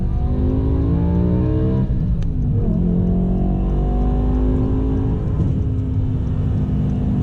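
A BMW M6 with a V10 engine and manual gearbox pulls hard on the road, its exhaust rising in pitch through a rev, dipping at a gear change, then climbing again, loud and close throughout.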